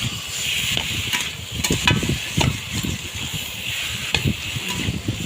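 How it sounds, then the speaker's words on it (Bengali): Potatoes sautéed and stirred in a pan on the stove, giving a steady close sizzle and hiss with repeated scraping and stirring strokes throughout, no voices. "আলুটা দেওয়ার পরে একটু কষে নিলাম। কষে নেওয়ার পরে আর একটু কষাই হচ্ছে।"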